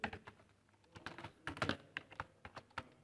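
Computer keyboard being typed on while entering C++ code, irregular close clicks and clacks in short bursts, some keys struck harder than others, with no voices.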